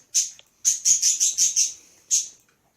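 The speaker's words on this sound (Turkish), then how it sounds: "Kuş bağırıyor." A series of sharp, high-pitched bird screeches in the video game Pixel Gun, about seven bursts in quick succession after a lone first cry, loud and clear against silence.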